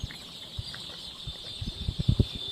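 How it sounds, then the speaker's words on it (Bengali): Desi chickens on a farm rushing in to feed, with clucks and short calls scattered across a constant high background hum, growing busier and louder toward the end, with no talk. "দেখছেন খাওয়ার জন্য কীভাবে তেড়ে আসছে সব মুরগিগুলো।"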